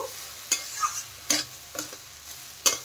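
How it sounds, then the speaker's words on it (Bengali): Gobindobhog rice and dal being stir-fried together in a pot for khichdi: a faint sizzle under a few sharp spatula scrapes and taps, spaced irregularly, with no voices. "এখন নেড়ে ছেড়ে হালকা কষিয়ে নেব"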